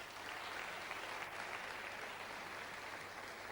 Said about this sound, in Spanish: al que sí le vamos a dar un aplauso